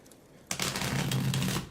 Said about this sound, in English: give the deck a nice little shuffle.